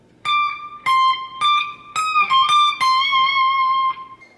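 Electric guitar plays the slow solo section of a song, a series of clear picked notes held with vibrato, about seven distinct attacks at a steady unhurried pace, close and alone.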